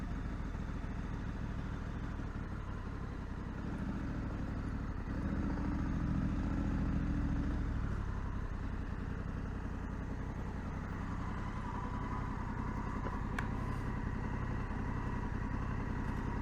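A 2020 Honda Africa Twin DCT adventure motorcycle engine idles at a standstill, a steady low rumble that swells briefly midway before settling back into an even, close putter.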